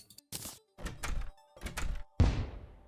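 Grenade going off in Terraria: one sharp, loud thump with a brief decaying tail, coming after a stretch of short bursts of game sounds.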